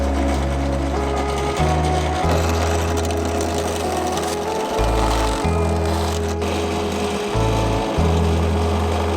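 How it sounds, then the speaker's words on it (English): A power drill with a 3/4 inch wood bit bores holes through a Prinsu roof rack spacer for a 2020 Toyota Tacoma. The motor whines loudly and steadily, its pitch stepping down and back up as the bit loads and frees. "we're going to drill these holes out and try to keep them as centered as possible"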